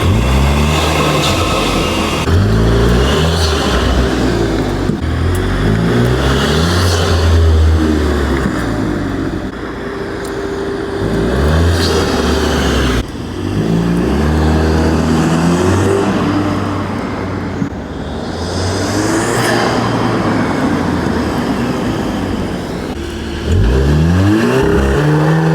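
A VW MK8 Golf R with a turbo engine, aftermarket intake and Stage 1 tune revs repeatedly in loud, rising bursts, with launch control holding the engine at a high steady drone between surges and turbo whoosh on release.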